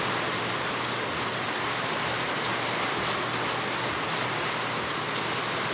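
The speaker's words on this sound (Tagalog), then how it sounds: "Oh, kusog yung mga ulan na." Heavy rain falls hard in an unbroken, loud roaring hiss that holds steady with no voices present.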